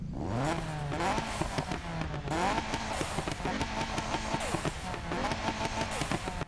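A tuned 400-horsepower Mazda Miata engine in Need for Speed (2015) revs hard and repeatedly, pitch climbing and dropping through quick gear shifts, loud and close with a rough, crackling edge.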